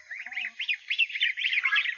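Geese call on a farm, including a protective mother goose with her goslings: a close, continuous run of short, nasal, honking cries in quick succession with no talk.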